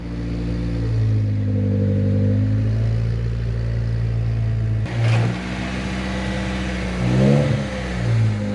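A Honda Civic engine idles and runs steadily up close as the car is driven out, with a brief clunk midway and a slight rise in revs; no speech.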